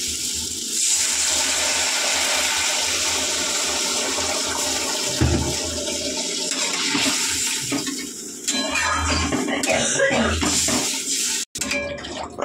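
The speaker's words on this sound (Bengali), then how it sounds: "একটু জল দিলাম, কারণ আলুগুলো তো সেদ্ধ হবে" Water is poured into a pan of cooking potato curry, making a steady, loud rushing and bubbling wash that runs for several seconds, with brief clatter near the end.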